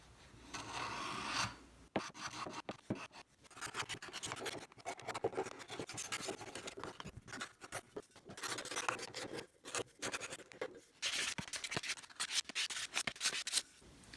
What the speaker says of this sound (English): So I want these edges to be a little bit softened. I'm chamfering just a little bit.